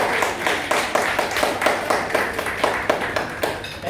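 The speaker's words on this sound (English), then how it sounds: "An applause, please." Applause for a new strudel master baker: a small group claps in a quick, even rhythm for about four seconds, close and fairly loud, with no talking over it.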